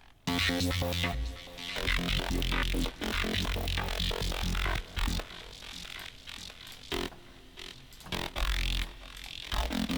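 A synthesizer patch with its LFO bypassed plays a steady, static tone with chord changes, the sound holding even without wobble or sweeping modulation, moderately quiet throughout.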